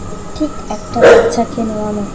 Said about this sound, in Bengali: তো তাতে কুকুর কেন ডাকছে